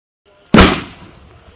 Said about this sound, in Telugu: చిన్న పిల్లలకి రావద్దు బాంబుల దగ్గరికి అయితే ముట్టిస్తున్నాను